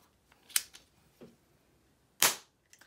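A Liston air pistol fires two sharp, close shots after its power is adjusted: a crisp crack near the start and a louder, fuller one about two seconds later, with faint clicks of handling between and after.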